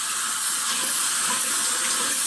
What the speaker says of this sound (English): So you just fill it with water inside of the little cup that it comes with.